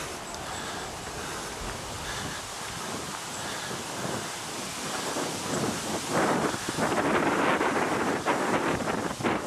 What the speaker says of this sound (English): wind's coming from the right side here, blowing to the left